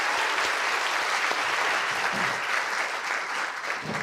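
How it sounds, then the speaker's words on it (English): A studio audience breaks into dense, sustained applause for several seconds, loud and even with no talking over it. "Big round of applause."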